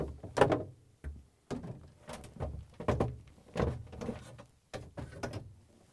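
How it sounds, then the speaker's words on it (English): Refrigerator shelves being lifted out of a Whirlpool, KitchenAid or Maytag fresh food compartment, heard as a series of sharp plastic-and-glass clunks and scrapes at irregular intervals, close and moderately loud, with no talking. "Remove the shelves on the right side."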